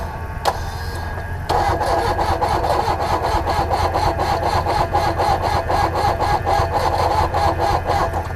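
A diesel engine cranks in cold, snowy weather, continuously with a steady, rapid chugging rhythm that never catches, loud and close, after a brief click at the start.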